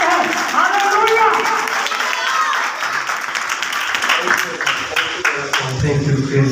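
A church congregation at a Tuesday meeting claps to welcome a pastor; scattered hand claps run under a speaking voice, loosening into irregular claps toward the end.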